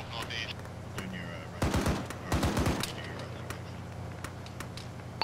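Automatic gunfire with tracer rounds in a military video game, two dense bursts of rapid shots at moderate distance, with faint background noise and other scattered sounds.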